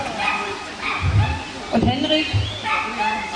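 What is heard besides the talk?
dog barking during VPG protection training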